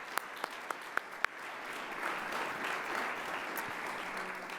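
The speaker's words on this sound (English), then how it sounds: "Let's give them a round of applause." Audience applause thanking sponsors at a civic forum luncheon, a few sharp claps at first swelling into steady, sustained clapping from a large crowd in a hall.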